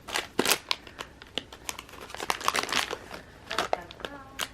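Scissors snip and crinkle through packaging to open a DIY Christmas Disney gift box, producing close, rapid crackling and cutting sounds with brief breaths and voices.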